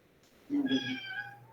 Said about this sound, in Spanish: Perdón por mi gato, acabo de llegar.